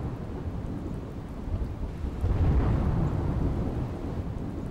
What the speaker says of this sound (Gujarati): મહીસાગર જિલ્લામાં ખાબક્યો ધોધમાર વરસાદ